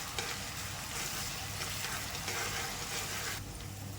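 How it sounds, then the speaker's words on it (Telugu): Onion paste frying in oil as it is stirred for a couple of minutes, giving a dense, continuous hissing sizzle at moderate volume with soft stirring scrapes and no voices. "ఇలా జస్ట్ ఒక 2 మినిట్స్ పాటు అలా తిప్పుతూ ఉండండి. మనకు ఎర్రగడ్డ అనేది బాగా ఫ్రై అయితే అవుతుంది నూనెలో."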